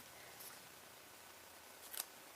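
Scissors cut paper during a paper-craft herringbone project, two faint crisp snips, one early and a slightly louder one near the end, against quiet room noise.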